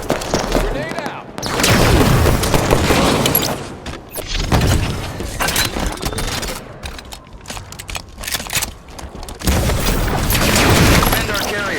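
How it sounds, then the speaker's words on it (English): Grenade blasts and rapid gunfire in Halo 5 Guardians multiplayer Capture the Flag on the Sleipnir map, loud dense bursts and booms layered with game announcer voice lines and in-game speech. "grenade out."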